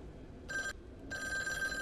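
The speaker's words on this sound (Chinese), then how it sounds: "公共电话响" A public payphone in the horror game Devotion rings in two bursts, a short trill followed by a longer one after a brief pause, electronic and moderately faint over low ambient hum.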